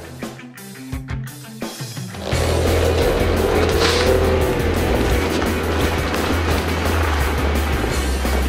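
A car speeds up on a snowy road, its engine rising into a loud, steady roar after a brief quieter start, with a broad noisy rush of tyres and wind and no talking.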